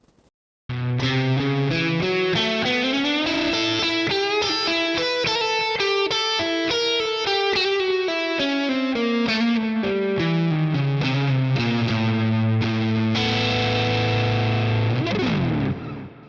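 A heavily distorted electric guitar plays a bluesy lick alone, with bending notes and sustained phrases, ending on a long held tone.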